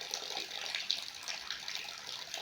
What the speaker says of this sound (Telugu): మా ఇంటి ముంగటి నుంచి అయితే గేట్ ముంగటి నుంచి అయితే వాటర్ పోతున్నాయి.